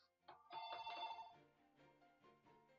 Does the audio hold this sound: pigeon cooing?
no